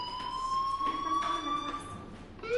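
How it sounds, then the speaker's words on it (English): Fire alarm in Life is Strange, a steady high electronic whine held almost unbroken, fairly loud and wavering slightly in pitch, with faint background sounds and no clear speech. "do you hear that fire alarm?"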